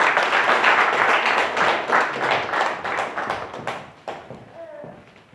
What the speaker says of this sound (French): Un dernier applaudissement pour le Seigneur pour leur vie.